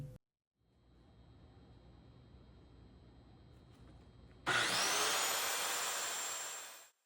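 A circular saw cuts through a wooden board, starting abruptly after a quiet stretch of low room noise and then roaring loud and steady for a few seconds before winding down.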